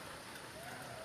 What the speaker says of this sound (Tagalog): Naulan oh.